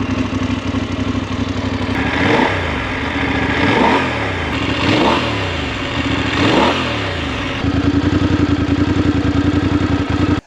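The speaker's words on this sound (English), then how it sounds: "this bike has got that nice note to the exhaust" A 2024 Voge 900 DSX motorcycle's parallel twin engine with a 270-degree crank idles, then its exhaust rises and falls through four quick throttle blips before settling back to a steady, close idle.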